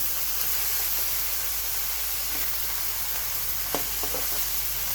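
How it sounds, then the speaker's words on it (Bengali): Steady sizzling of fish frying in a pan, a constant hiss with a few faint clinks of utensils near the end. "হালকা করে একটু ভেজে ভেজেও নিচ্ছি এর মধ্যে মাছটা উল্টে উল্টিয়ে দিয়ে নিলাম"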